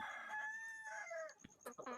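Hens in a poultry shed giving soft, quavering clucks and a drawn-out crowing call, fairly faint and close, followed by short clucking bursts.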